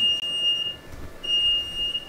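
A smoke alarm beeps with a high, piercing electronic tone in two long bursts separated by a short pause.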